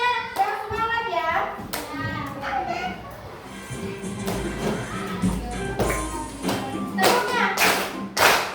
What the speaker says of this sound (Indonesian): Kita sambil tepuk tangan.